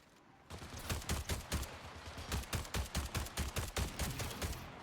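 Rapid bursts of gunfire in a video game, about twenty sharp shots in uneven clusters, loud and close with no talking.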